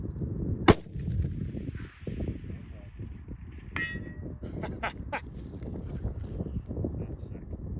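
A 6.5 PRC rifle fires a single loud, sharp shot outdoors, with the report trailing off over wind noise and a brief later impact crack, while people talk nearby.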